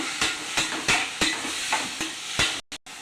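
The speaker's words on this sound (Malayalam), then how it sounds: "നമുക്ക് ചേമ്പൻ താള് ഇട്ട് കൊടുക്കാം. നമുക്ക് ഇളക്കി കൊടുക്കാം." Colocasia leaves are stirred with salt in a hot pan, a close loud sizzle broken by regular scraping strokes of a spatula about every third of a second, ending with a couple of brief pauses.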